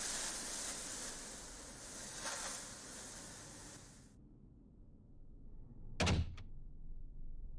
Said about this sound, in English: That door slammed so hard, I swear the building trembled.